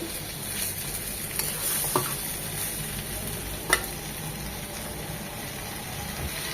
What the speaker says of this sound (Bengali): ডাটা আর টমেটো দুটোই কষানো হবে।